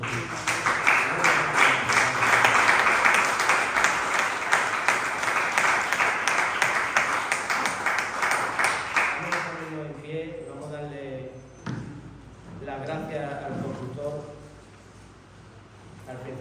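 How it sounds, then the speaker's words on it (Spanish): A church congregation claps loudly for Christ during a sermon, a dense burst of applause lasting several seconds before fading as a preacher's voice takes over. "dale un fuerte aplauso a Cristo"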